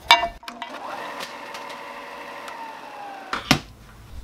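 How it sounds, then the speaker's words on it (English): A workshop belt sander switches on and its motor whines steadily for a few seconds, then a heat gun that was resting on top is thrown off and lands with a sharp, loud clatter on the floor; no one speaks. "my heat gun was on top of my belt sander, and I turned it on, and it threw it off onto the floor"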